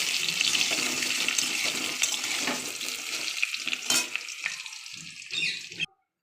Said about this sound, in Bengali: আমার আলু ভাজা হয়ে এসছে,